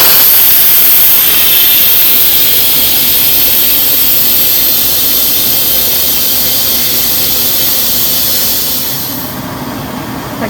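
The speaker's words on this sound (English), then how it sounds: "now we're supposed to release the steam" Loud, continuous hissing blast of steam venting from an Instant Pot pressure cooker after cooking pot roast, holding steady before tapering off near the end.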